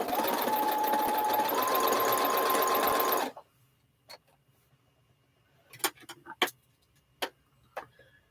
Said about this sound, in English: Now I'm going to sew them onto the corners.